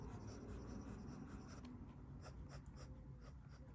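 A flex fine fountain pen nib scratches quickly across paper, a faint, close, continuous dry rasp with small bursts of feedback on the strokes.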